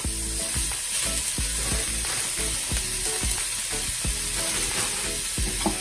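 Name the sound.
bean sprouts and garlic stir-frying in a pan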